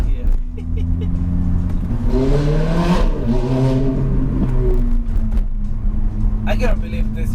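A Ferrari F430 F1, stock and street legal, revving loudly from inside the car on a test drive, its engine note climbing and falling in a sustained roar while people talk over it.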